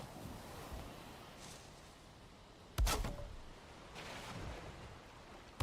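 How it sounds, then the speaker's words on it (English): Waves lap around a wooden boat bobbing at sea in the video game Valheim, a steady washing hiss of surf and wind broken by a sudden sharp knock of the hull and a swelling splash, with no talk. "it sounds like waves lapping over the beach"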